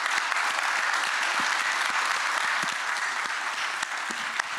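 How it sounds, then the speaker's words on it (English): Sustained applause from an audience at a preservation workshop panel discussion, a steady dense wash of many hands clapping at moderate level throughout with no talk. "Another big round of applause for these."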